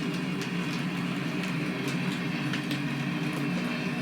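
An HO scale Union Pacific model train rolls along its track with a steady close rumble and faint rhythmic clicks of wheels over rail joints, continuous and with no voices.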